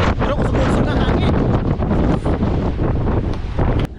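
Strong wind buffets the microphone at a Benmore Dam campsite, a loud, continuous roar with gusty surges throughout and no speech.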